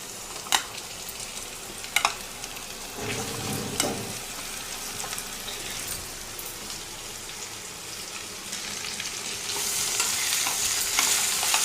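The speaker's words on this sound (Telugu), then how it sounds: "సొరకాయ ముక్కలు వేసేసుకుందాం." Bottle gourd pieces drop into hot tempering oil with turmeric with a few clinks, then a steady sizzle builds and grows louder toward the end.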